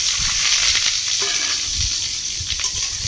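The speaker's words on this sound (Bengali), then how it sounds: "সমস্ত ফুলকপিটাই দিয়ে দিলাম। এবারে ফোড়নের সঙ্গে খুব ভালো করে মিশিয়ে নেব।" Cauliflower drops into hot oil with fried tempering spices, giving a loud, steady sizzle that fills the short moment without any talk.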